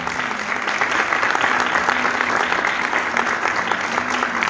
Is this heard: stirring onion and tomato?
no